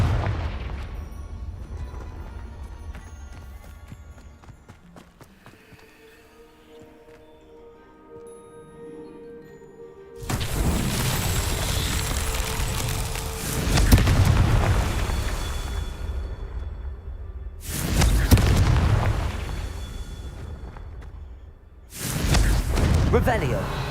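Confringo fire-spell blasts in the Hogwarts Legacy video game: several loud, roaring fiery explosions, each swelling and then fading, separated by quieter game ambience.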